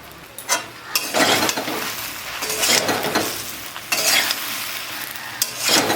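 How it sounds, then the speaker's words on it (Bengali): Spices with turmeric and salt are stirred and fried in a pan for jujube pickle, with repeated scraping strokes of a utensil against the pan over a constant close sizzle. "ভালোভাবে আমি একটু নাড়ে নাড়ে ভেজে নিচ্ছি"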